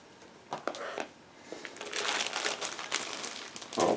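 A plastic bag holding 1/72 Special Hobby SB2C-5 Helldiver model kit parts is opened, with close crinkling and rustling in irregular bursts that grow busier toward the end.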